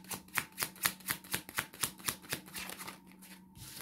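A deck of cards riffled and shuffled in a steady run of quick, close, crisp flutters, about a dozen rapid strokes, before easing into softer handling as a card is drawn.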